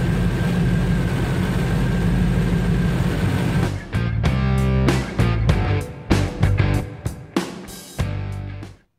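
Car engine fitted with Holley Sniper fuel injection, running with a loud, steady low rumble that breaks into uneven revving bursts and choppy pulses before cutting off at the end; no talking.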